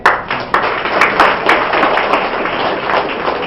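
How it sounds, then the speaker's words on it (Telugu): A crowd applauds at a Telugu film success felicitation for Gautamiputra Satakarni, a dense, loud wash of many hands clapping that carries steadily through the whole span. "give a big clap"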